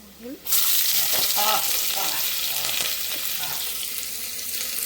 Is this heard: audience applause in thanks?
no